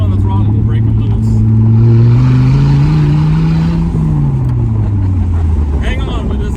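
A 1995 Dodge Viper R/T 10 Roadster rolls on the throttle and breaks its tires loose, the loud, close engine rising steadily and then easing off under ongoing talk.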